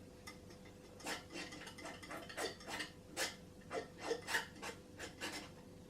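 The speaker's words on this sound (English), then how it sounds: "just scraping a tiny bit just with the end of the palette knife" A palette knife scrapes acrylic paint on a palette in a series of short, soft rasping strokes with an irregular rhythm. The strokes are close but quiet, and no one speaks.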